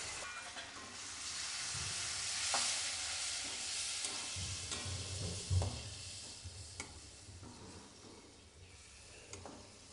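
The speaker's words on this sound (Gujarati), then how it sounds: "એ ટમેટું પણ કઢાઈમાં ઉમેરી દઈશું" Finely chopped tomato drops into a hot tempering in a kadai, and a soft sizzle and hiss continue throughout with a few stirring thuds and scrapes, fairly quiet with no talking.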